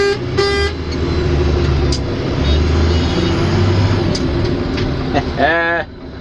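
A truck engine drones loudly throughout while hauling brush on bumpy ground, with a couple of horn toots and a voice talking over it near the end.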